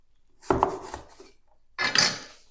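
A knife slices through pitted jujube dates on a board, two distinct firm cutting clacks about a second apart, close and clear with no talk.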